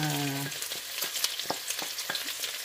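Chicken breast pieces fry in a pan for pancit bihon, giving a close, steady sizzle broken by crisp popping crackles, with a short tonal sound at the very start.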